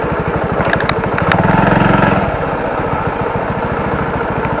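A Honda XL 100 motorcycle engine runs nearby with a steady, loud putter. The tone rises briefly partway through, then settles back to an even idle-like rhythm.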